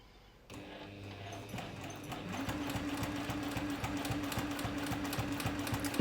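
A sewing machine with an edge foot runs steadily, stitching a seam on a zippered sunglasses case at a shortened stitch length, its rapid even needle clatter loud and close after a brief quiet start, with no talking.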